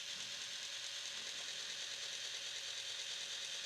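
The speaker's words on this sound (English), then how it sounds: "It does take that motor a little second to catch." A cheap RC forklift's small electric motor raises the forks, giving a faint, continuous ratcheting whir of gears that stays even throughout.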